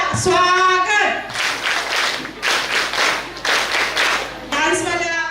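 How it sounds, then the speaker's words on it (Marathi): An audience at a community dance program in Masure bursts into loud, sustained applause for a woman performer, rippling in waves for several seconds, with a voice on a microphone just before and after. "ताईंसाठी जोरदार टाळ्या"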